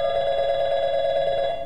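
A telephone in Portal 2 rings with a steady, electronic tone that holds evenly and unbroken for under two seconds, fairly loud and alone.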